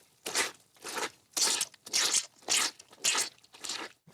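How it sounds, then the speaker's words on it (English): Foley footsteps made to squelch like walking through a swamp, about eight wet, crunchy steps in an even rhythm, close and fairly quiet with no talking. "making it sound like I was walking on a swamp"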